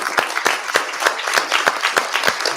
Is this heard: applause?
yes